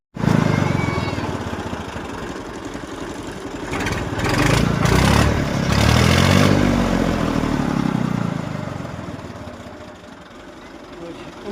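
An original-condition 1983 Massey Ferguson 240 tractor's engine runs steadily close by, swelling in loudness midway before settling back, with a voice heard over it at times.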